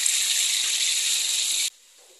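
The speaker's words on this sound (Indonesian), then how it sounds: "Selanjutnya kita akan goreng lele yang tadi sudah kita marinasi." Loud, even sizzle of marinated catfish frying in hot oil, a bright continuous hiss that cuts off abruptly near the end.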